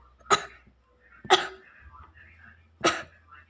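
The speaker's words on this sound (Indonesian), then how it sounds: "Batuk kan?" Three sharp coughs spaced about a second apart, loud and close, from a character in a Toca Boca animated comedy skit, with a faint background hum between them.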